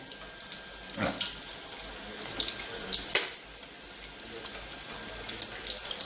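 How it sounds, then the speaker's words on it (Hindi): Water streaming from a Kangen K8 water ionizer tap, a continuous splashing flow with small clinks and pops, moderately close and steady over the whole stretch with no talk. "ये हमने K8 से इस पानी को निकाला है।"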